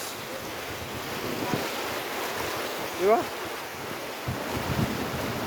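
Clean river water flows with a current outdoors, making a steady, broad rushing wash mixed with wind noise, while a person briefly speaks nearby.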